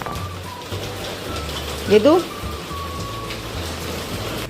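Rain falls outside as a steady, fairly loud hiss throughout, with people speaking over it and a brief louder voice burst in the middle.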